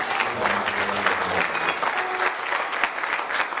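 A church congregation applauds at a worship service, a dense, steady burst of clapping from many hands filling the room, loud and continuous, with faint voices mixed in.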